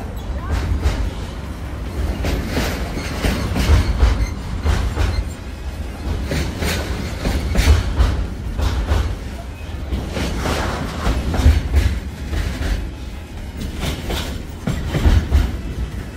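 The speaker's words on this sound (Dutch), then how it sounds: "De trein maakt heel veel kabaal." Train passing on a street during a cycling trip in France between Angers and Nantes, a loud continuous rumbling rattle with rhythmic clacking of wheels over rail joints, close by and sustained throughout.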